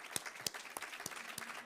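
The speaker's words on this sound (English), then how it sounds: "Let's give them a round of applause." Audience applause for a business panel at the Nature Positive Pavilion, COP28: a brief round of scattered hand claps with a few sharp individual claps standing out, close and moderately loud, with no talk over it.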